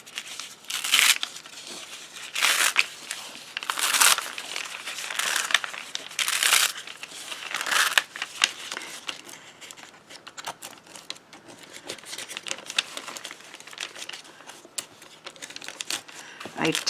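Freezer paper peeled away after one end is started with a knife, a close crinkling and tearing rustle with loud bursts early on, then a steadier crackle, while someone talks.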